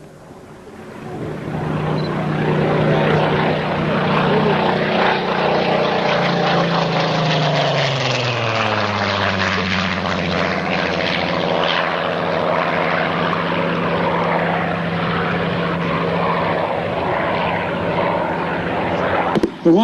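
A Supermarine Spitfire Mk18 making a demonstration pass at an air show in Reading, Pennsylvania: a loud, sustained piston-engine roar swells in, holds for many seconds and shifts pitch downward as the aircraft sweeps past and away.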